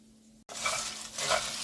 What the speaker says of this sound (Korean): 약불로 해서 이렇게 젓가락 2개로 이렇게 밑에 거로 끌어올리면서 이렇게 저어주셔야 됩니다